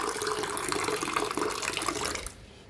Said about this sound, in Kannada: ಇದಕ್ಕೆ ನೀರು ಹಾಕ್ತೀನಂತ.